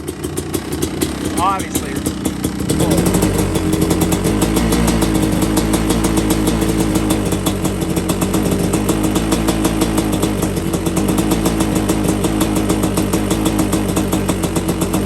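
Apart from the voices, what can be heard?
Kawasaki KX500 two-stroke motorcycle engine idling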